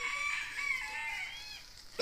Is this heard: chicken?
yes